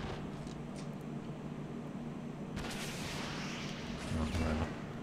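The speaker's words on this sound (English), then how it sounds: "Let's get rid of this with a rocket." A rocket is launched in the World War II strategy game Men of War Assault Squad 2, where a low battlefield rumble gives way to a sudden broadband whoosh and a deeper boom, with engine drone beneath.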